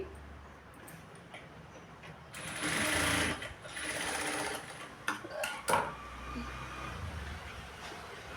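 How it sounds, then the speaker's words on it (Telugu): A sewing machine stitching the lining of a blouse runs in short bursts, loud whirring runs broken by pauses and faint clicks, close by with no talking. "సో ఇలా స్టిచ్ చేయాలండి"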